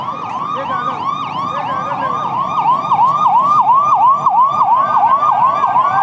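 A wailing ambulance siren sweeps up and down in rapid repeated cycles, loud and close, with traffic rumble underneath, at Ahmedabad Riverfront with a fire engine also arriving.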